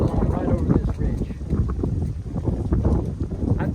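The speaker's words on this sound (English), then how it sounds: "It is windy up here, and the wind is blowing right over this ridge." Strong wind gusting over an exposed Appalachian Trail mountain ridge at a campsite, a steady low roaring rush with buffeting against the microphone throughout.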